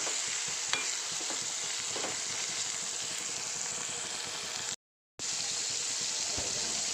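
Brinjal, green chillies and curry leaves fry in coconut oil, making a continuous close sizzle and crackle with faint stirring, broken once by a half-second gap of silence.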